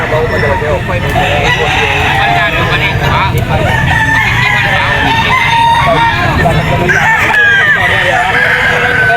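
Roosters crow repeatedly at a busy pet market selling gamefowl such as Boston Roundhead and yellow-legged cocks, overlapping calls and clucks rising over a steady background babble of the crowd.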